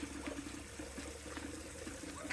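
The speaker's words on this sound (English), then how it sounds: "You can see the color of the water, time of water coming outside." Water flowing out on a farm, a steady soft rush of running liquid with faint trickling, low and continuous throughout without voices.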